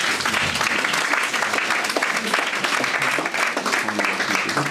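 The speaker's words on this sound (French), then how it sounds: "Vous pouvez continuer tout de suite à applaudir pour leur courage" A large indoor audience at a public event applauds loudly and continuously in a dense wash of clapping, with a few scattered voices faintly mixed in.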